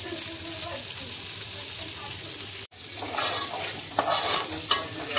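Fish frying in a pan in a home kitchen: a soft, continuous sizzle with faint stirring and scraping, briefly cut off midway, then resuming with a few louder crackles near the end.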